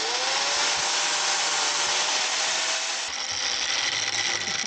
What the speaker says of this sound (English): I take a sanding disc.